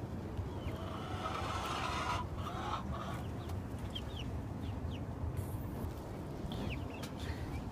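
Yard chickens cluck softly in the background over a steady, rough outdoor rumble, with faint scattered calls.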